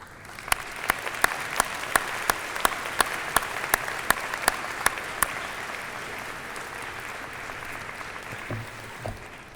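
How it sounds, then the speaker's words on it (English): An audience at a university convocation ceremony applauds in a sustained, even wash of clapping, with a few sharp, loud claps standing out near the front before the applause fades out. "recognize those that have supported you through your studies with a"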